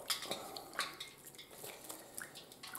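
Homemade butter being squeezed by hand in a bowl of cold water, giving soft wet squelches, drips and light clinks against the dish, close and fairly quiet with no talking.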